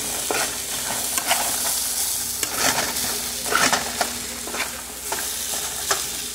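Fried rice sizzles steadily in a pan while a utensil scrapes and turns it, with soft clacks repeating every second or so, close and clear.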